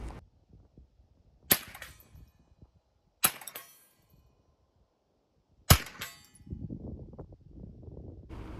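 Handgun shots at a shooting range, three sharp cracks spaced a second or two apart with quiet gaps between, followed by a low murmur near the end.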